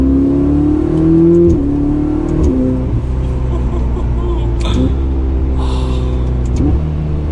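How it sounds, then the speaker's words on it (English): A Ferrari 488 Spider V8 on a test drive revs hard with a loud, deep exhaust note, climbing through the gears with quick dual-clutch shifts heard as dips and jumps in pitch. "Wow, that sounds so good. For a V8, down to second."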